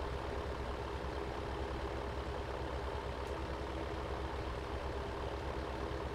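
A 400 hp tractor engine labouring under an oversized implement in Farming Simulator 17: a steady, low, heavy droning rumble that holds constant and quiet throughout, with no break or change in pitch.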